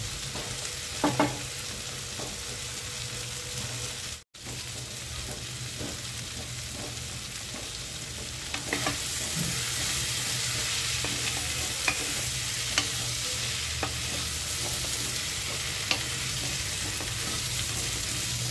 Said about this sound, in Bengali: শুধু আর একটু লাল লাল করে ভাজার জন্য কড়াতে রেখেছি।